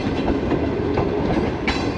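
Bulleh Shah Passenger train running on the Lahore–Kasur line, heard from on board as a steady loud rumble with faint rhythmic clatter of wheels over rail joints.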